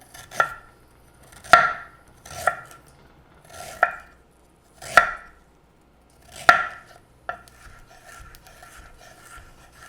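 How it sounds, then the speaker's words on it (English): Ginger being thinly sliced with a knife on a cutting board: six distinct, fairly close chops at an uneven rhythm, each a crisp blade-on-board knock, followed by a faint scrape at the end. "All right, and then just slice up your ginger."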